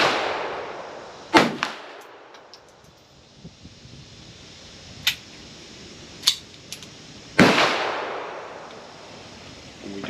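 A French MAB Model D pistol from the WWII era fires two sharp, loud reports several seconds apart outdoors, with a few fainter clicks and handling noises in between over steady wind.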